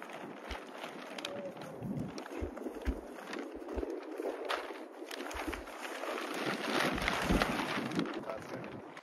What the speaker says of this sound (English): It's a little bit windy out, so the tarp's blowing around.